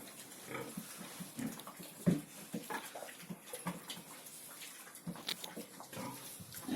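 Soft grunting and squealing from piglets and a sow, with small snorts and snuffles scattered throughout over a steady background hiss.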